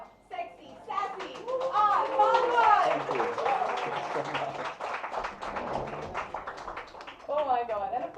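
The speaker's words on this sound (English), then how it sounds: "please help me welcome with a huge round of applause" An event crowd applauds and cheers to welcome actor R Madhavan at a health and nutrition magazine cover launch, with scattered clapping mixed with excited voices and a host speaking over it.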